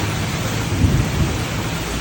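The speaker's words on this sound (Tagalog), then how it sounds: "Oh, lakas ng ulan." Heavy typhoon rain in Batangas pours down in a dense, loud roar, with a low rumble of thunder rolling underneath, continuous and close throughout.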